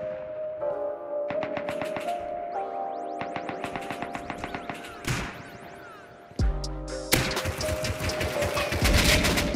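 Rapid bursts of automatic gunfire from a Rust firefight, dense volleys of close shots with brief pauses and a heavy impact near the end, loud throughout without talk.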